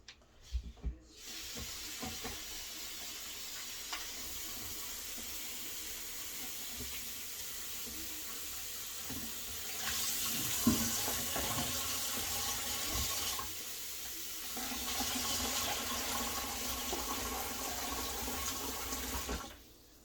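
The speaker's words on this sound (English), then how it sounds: "First thing first, wash your mushrooms." Mushrooms being rinsed under a running kitchen tap, a steady close hiss and splash of water into the sink that lasts throughout, growing slightly louder partway through, with small clatters and no speech.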